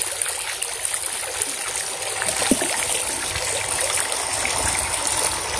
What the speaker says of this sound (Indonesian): di dalamnya itu ada hiasannya, yaitu air mancur.